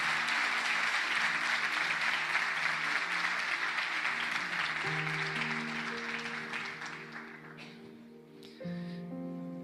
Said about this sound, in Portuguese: Vamos aplaudir o Pai, o Filho e o Senhor Espírito Santo